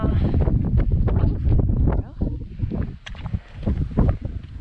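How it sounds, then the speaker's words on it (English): Strong gusting wind on an exposed mountain trail near Mount Washington, buffeting the microphone with a loud, dense rumble for the first two seconds, then easing into choppier, weaker gusts. "I think the wind was worst right there"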